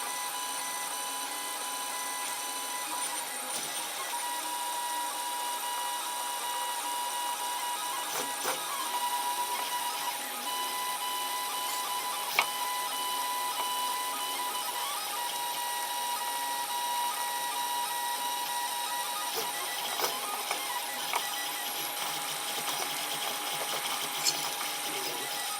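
A 3D printer runs at normal speed, loading blue filament, giving a steady mechanical whir with stepper-motor tones and occasional small clicks throughout, close and alone with no talk.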